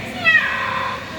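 A person imitates a cat's meow with a single drawn-out, rising then falling vocal mew, close and clear, at a bird park in Singapore.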